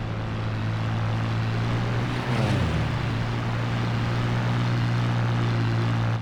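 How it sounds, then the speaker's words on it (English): Propeller engines of attack plane squadrons launching from an aircraft carrier in the WWII naval game Battlestations Pacific. A steady, loud droning hum holds throughout, with one engine briefly swelling and dipping in pitch partway through. "Prepare to launch attack plane squadrons."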